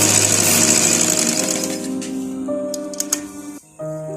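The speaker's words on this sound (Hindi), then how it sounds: "अब हम इसके ऊपर से इस तरीके से सिलाई लगाएंगे।" Sewing machine stitching a seam on trousers, a loud close mechanical whir with a steady droning hum that slows and stops, followed by a few light clicks and a brief restart.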